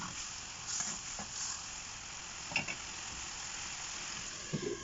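Spices with turmeric, cumin and coriander powder frying in a pan with tomato for a sea fish curry, a faint steady sizzle broken by a few soft scraping stirs, no speech.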